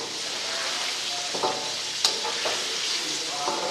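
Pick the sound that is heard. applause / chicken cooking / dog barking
chicken cooking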